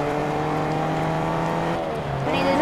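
A Ferrari driving in a video game: a steady, sustained engine drone with a shift in pitch partway through, heard loud and continuous under the game's other sounds.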